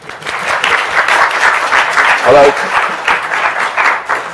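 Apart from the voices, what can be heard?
lecture class round of applause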